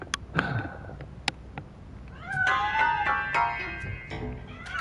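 A cat in the game Robocop Rogue City, hidden inside a piano, lets out a couple of drawn-out meows after a few sharp clicks, fairly close and clear.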